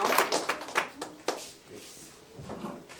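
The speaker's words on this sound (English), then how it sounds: "Good job, and we'll clap" Scattered hand claps from a small class after a performance, a few sharp irregular claps at the start tapering into sparse, uneven taps with faint room noise.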